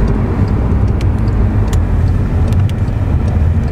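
A Volkswagen car in sport mode accelerates with its transmission holding gears longer, heard from inside the cabin as a loud, steady engine and road roar with a few faint clicks and no talking.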